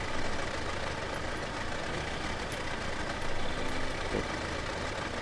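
Ford Model T engine in the Farming Simulator 22 game, a steady, dense, mid-loud engine drone that runs throughout with little change, without any voices.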